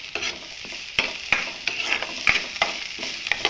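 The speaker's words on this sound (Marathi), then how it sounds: "बारीक गॅसवर एकदम फ्राय करायचा आहे कांदा." Onion and tomato frying over low heat in a pan for sambar, a steady sizzle punctuated by repeated clicks and knocks of a spoon stirring against the pan.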